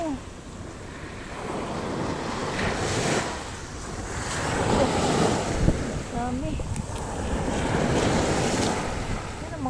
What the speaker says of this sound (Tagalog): nagwawala na yung dagat